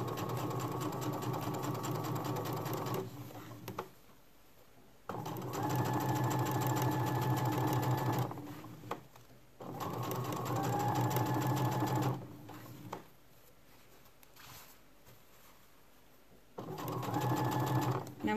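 A sewing machine stitches a seam on a pair of shorts in four loud, steady runs, each a rapid whirring hum, separated by short pauses.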